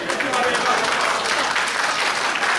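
Wrestling crowd applauding steadily at a women's match between Ava Everett and B3CCA at Limitless Wrestling, a dense, continuous wash of clapping and cheering that holds at full level throughout.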